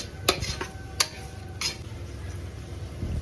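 Chilies and tomatoes being sautéed in a pan for biryani, with a low steady sizzle under a few sharp scrapes and clinks of a spoon against the pan.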